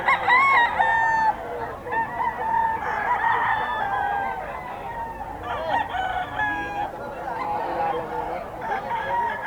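Gamecocks, sweater and Bullstag breeds, crowing at the Bocaue market, several layered calls overlapping near and far with steady crowd murmur and people talking underneath.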